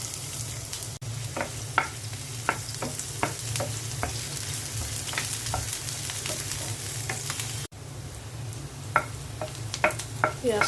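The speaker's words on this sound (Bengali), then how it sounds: "পেঁয়াজটা ভাজা হয়ে গেছে।" Onions frying in oil in a frying pan, a steady sizzle with frequent sharp scraping clicks of stirring, close and alone with no talk.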